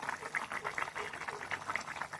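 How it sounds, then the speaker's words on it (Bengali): Rui fish curry with potatoes boils in a pot, making a quiet, close, steady bubbling with regular soft pops. "ঝোল ফুটতেছে।"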